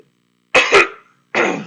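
A person clears their throat twice in quick harsh bursts, then gives a second rough cough-like clearing after a short pause, loud and close in a quiet room with no talking.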